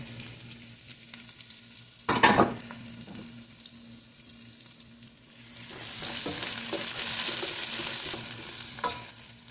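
White onion in a pan, with a loud clatter as it goes in, then a broad frying sizzle that swells and holds steady to the end, no talk.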